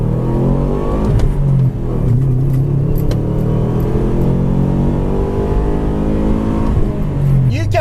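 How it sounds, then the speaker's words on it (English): Turbocharged four-cylinder boxer engine of an all-wheel-drive Saab 9-2X, a Subaru-based car, revving loudly and continuously with a deep, steady rumble and shifting pitch, with talk running underneath. "You can put on exhaust if you enjoy the boxer rumble sound"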